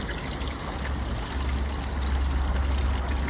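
A garden pond pump pours a steady stream of water into a refilled pond, a continuous close splashing rush that builds slightly louder partway through, with no talk over it.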